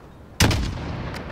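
Sniper rifle shot in the Call of Duty Modern Warfare campaign, a single sharp, loud crack followed by a booming tail that echoes away over about a second.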